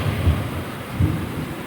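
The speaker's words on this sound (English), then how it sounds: "Let's hope that rain doesn't come pouring in again." Steady rain hisses throughout, with two low rumbling thumps standing out briefly over the wash.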